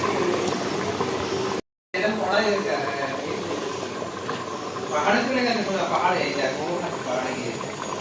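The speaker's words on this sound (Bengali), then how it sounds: "মাটন টকবক করে ফুটছে" Mutton curry simmering in a pot with fried potatoes and fat, giving a steady, close bubbling and gurgling with a brief silent gap, while a voice talks faintly over it.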